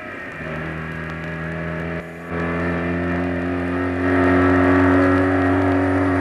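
Vauxhall Vectra SRI with stiffened, lowered suspension driving hard through corners, its engine a loud sustained drone with clear harmonic whine, dipping briefly then rising in pitch and volume as it accelerates.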